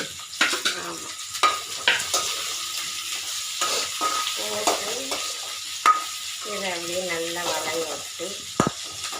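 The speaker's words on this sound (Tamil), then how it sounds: "மிளகாய் வெங்காயம் வெங்காயம் கருவேப்பிலை போட்டிருக்கீங்க" Onions, chilies and curry leaves frying in oil for semiya kichadi, a steady sizzle broken by scraping stirs and clanks, close by, with a voice briefly heard over it.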